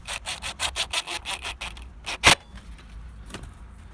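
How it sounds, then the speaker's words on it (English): A Jubilee hose clip being tightened onto a pipe on a camper van boiler, a close, steady train of rhythmic ratcheting scrapes that stops, followed by one sharp louder click and a faint final tap. "So we can do this clamp up nice and tight now."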